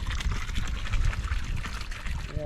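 Water pours steadily over a backyard pond spillway, a continuous close rushing and splashing wash with low gurgling, loud and even throughout with no speech.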